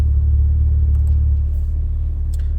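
A deep, steady exhaust rumble from a car with a homemade variable exhaust idling close by, low and continuous with a faint mechanical flutter, no voices.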